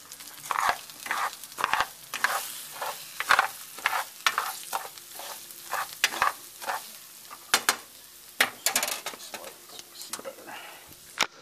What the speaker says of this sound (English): Just let this cook, come to a sizzle.